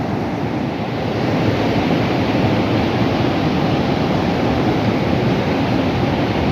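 The Kunar river flowing: a steady, dense rushing roar of water that holds at an even, fairly loud level throughout, with no voices.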